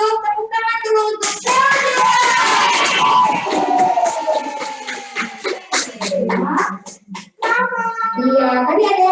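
Crowd cheering and shouting with children's voices and scattered clapping at a kindergarten fashion show prize announcement, loud and continuous across the whole span, with a brief dip near the end.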